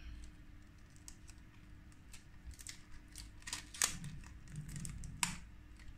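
Tape being pulled and wrapped around the sides of a two-part cap mould box for dice, with quiet crackling rips and two sharper tearing or snapping peaks near the end, close and fairly soft.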